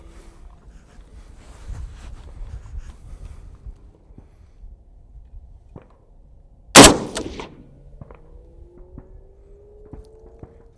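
A single loud FN SCAR 17 rifle shot cracks sharply at an outdoor range, fired at a target, with a brief ringing decay and faint background noise before and after.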